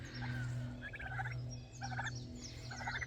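Pastured farm turkeys gobble in three quick rattling bursts, fairly close, over a steady low hum.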